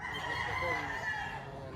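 A rooster at a poultry market in Padre Garcia, Batangas gives one sustained, strained crow that holds for nearly two seconds amid low market background noise.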